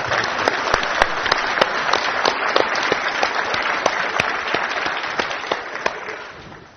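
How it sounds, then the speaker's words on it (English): An audience at the 2008 Pizza Expo keynote applauds Lisa, a continuous roar of clapping with sharp individual claps and whoops standing out, holding steady before fading toward the end. "So can you please give a round of applause to Lisa?"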